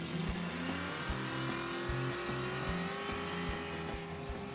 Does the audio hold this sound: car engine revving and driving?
yes